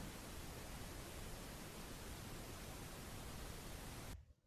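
Broadband hiss of TV static from a test pattern on a hacked Russian children's channel, a flat continuous roar of noise that cuts off abruptly near the end.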